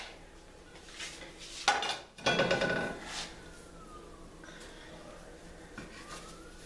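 Plate, sharp knife and other kitchen items clatter and clink in a home kitchen, with a brief loud rattle of dishes midway and quieter handling before and after, close by and without speech.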